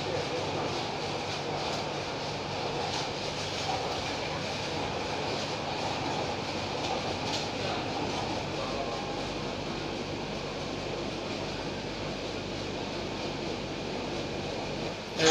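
A metro train runs steadily through the line near a station, giving a continuous loud rumble and rush of wheels and motor that holds for the whole stretch without a break.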